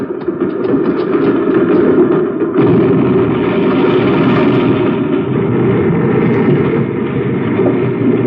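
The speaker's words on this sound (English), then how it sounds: "Must be some of those loading cars running in this tunnel." Runaway mine loading cars roll on rails through a tunnel in a radio drama effect, a loud continuous rumbling clatter with clickety-clack wheel noise that swells after a brief shift, heard alone without talk.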